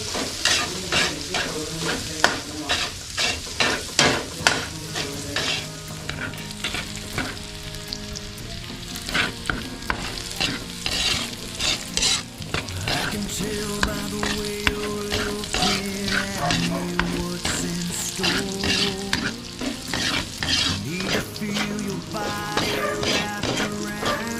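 Garlic fries in a pan, sizzling steadily throughout, with frequent scraping and tapping of a spatula as it is stirred, close and fairly loud.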